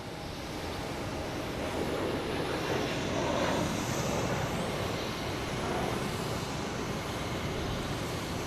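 A Delta Embraer E175 jet at Boston Logan Airport sends out a moderate, continuous engine roar that swells a little around the middle and holds steady to the end, with no voices.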